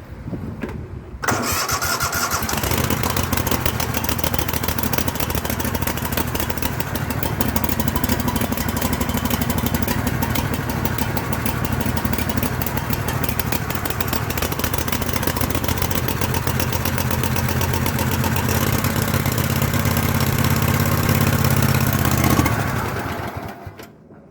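Craftsman garden tractor engine cranking and catching after the choke is set, then running steadily and loudly for about twenty seconds before sputtering and dying, with its carburetor needing work.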